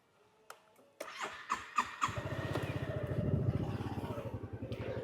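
A 2018 Honda Forza 250 scooter engine cranks with a few clicks and sputters, catches, and settles into a steady, rhythmic idle close by.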